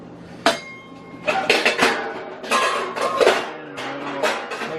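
A non-stick pan is handled in a home kitchen, with several sharp metallic clanks and clinks of cookware knocking together in irregular bursts, close and fairly loud.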